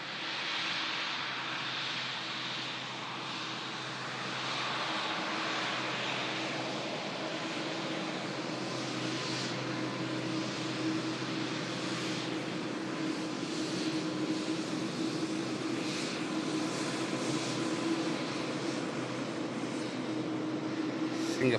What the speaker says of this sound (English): Singapore skimming through the clouds as the TUI for Melbourne just taxis past us.